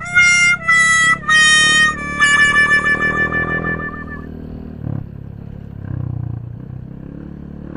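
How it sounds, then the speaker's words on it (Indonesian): A cat meows several times in loud, bright bursts near the start, followed by softer engine-like rumble and clatter from a motorcycle setting in a rural village. "Pokoknya kalau ada kucing namanya si Conim."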